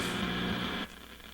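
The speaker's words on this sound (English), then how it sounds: "Let's just run down the dial here, make sure we pick up some FM stations." Broadband FM radio static hisses steadily as the dial of a Mustang AM radio converted to 8-track is tuned, then drops abruptly to a quieter hiss near the end.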